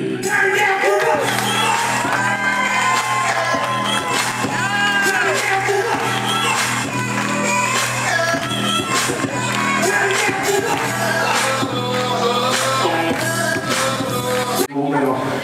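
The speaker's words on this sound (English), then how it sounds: "with a thunderous round of applause, let's give it up for Bill" A cruise ship show audience on Royal Caribbean's Vision of the Seas roars with sustained cheering, whoops and yells, loud and dense throughout with shouting voices layered over the crowd.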